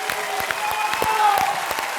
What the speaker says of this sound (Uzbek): Sizga esa katta rahmat ishtiroki uchun olqishlab qo'yamiz.